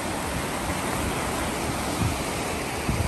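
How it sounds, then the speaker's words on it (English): A mountain creek flows beside a campsite in the North Georgia mountains, a loud, close, unbroken rush of water with a dense hiss and no voices. "enjoying the creek"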